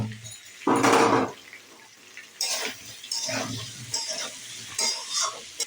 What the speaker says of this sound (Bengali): কষাতে থাকলাম, টমেটো, লঙ্কা, আলু একসঙ্গে